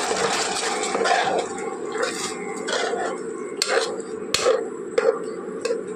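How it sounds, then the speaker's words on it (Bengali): A small amount of water is poured into a cooking pan of spiced egg biryani masala, giving a steady hiss and wash with intermittent clinks and knocks from the pan, moderately quiet and without talk. "এবার আরেকটু অল্প জল দিয়ে দেবো।"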